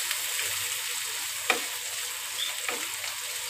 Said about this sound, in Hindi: इसको हम कर लेंगे थोड़ा सा फ्राई, सॉफ्ट करना है,